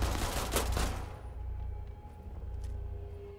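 A short, loud burst of SMG fire in Rainbow Six Siege that cuts off after about a second, then quieter game ambience and faint distant sounds.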